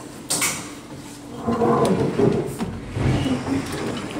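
A hotel room safe in a Punta Cana resort room is opened, giving a short mechanical clunk followed by sliding and latch rattles, close and moderately loud, with no talking.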